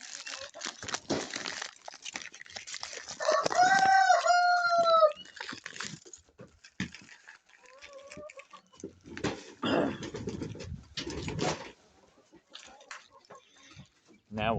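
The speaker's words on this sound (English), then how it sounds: "So I'm giving that to the chickens." Chickens cluck and squawk nearby with a rooster crowing loudly, scattered rustling and clattering in between.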